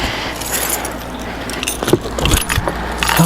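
Car keys jangle close up, metallic clinking and rattling in irregular bursts, inside a salvaged Scion tC with its stereo being upgraded, over a low steady background hum.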